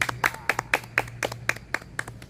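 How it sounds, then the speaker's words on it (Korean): Steady rhythmic clapping from an audience at a church worship gathering, sharp regular claps about every quarter second over a low hum, paced like clapping along to a final hymn. "더 큰 박수로 듣도록 하겠습니다."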